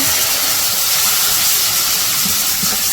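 Hot spice paste of turmeric, chili powder and ginger-garlic paste hisses loudly in a pan after a little water goes in, a dense continuous sizzle for a village-style fish curry.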